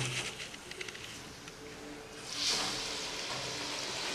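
Rose cookies fried in hot oil using a heated mould dipped in batter: a faint crackling sizzle that swells into a brief louder hiss as the mould goes into the oil, then settles into a steady bubbling.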